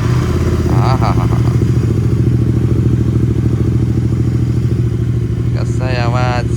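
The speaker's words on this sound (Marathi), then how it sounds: "कोल्ड स्टार्टचा आवाज आहे का आता?" A motorcycle idles after a cold start, a loud, steady, close engine rumble with a faint clatter, and a couple of short higher whines rising over it near the start and the end.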